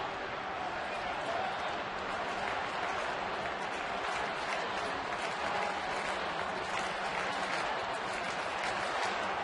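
Dense, steady applause and crowd noise from a large audience of over 25,000 at a Phillies–Pirates baseball game, a continuous broadband roar filling the whole stretch without pauses.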